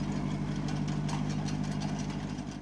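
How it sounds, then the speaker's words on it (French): An old tractor's 4-cylinder 20 hp petrol engine idles close by, a steady low rumble with a faint periodic knock running evenly throughout, no voices. "Il est animé par un moteur 4 cylindres à essence développant 20 chevaux."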